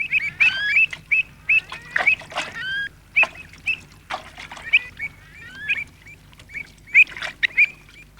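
Pied avocets give sharp, repeated piping calls in bursts while chasing a chick out of their territory, loud and close, with irregular pauses between flurries.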